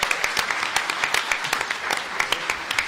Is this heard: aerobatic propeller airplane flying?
no